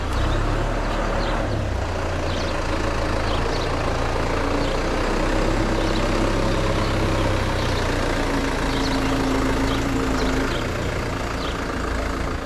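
A farm tractor engine runs steadily up close in a muddy spring field, a continuous low rumbling drone with mild surges holding for the whole stretch.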